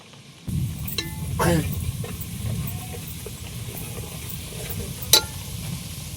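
Whole garam masala spices dropped into hot oil in a pan, setting off a sudden, steady close sizzle that carries on throughout, with a few small clinks and scrapes along the way.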